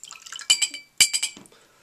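Silver solution and reducer are poured into a glass bottle while it is being mirrored. There are short, close liquid splashes and glassy clinks, in two quick bursts.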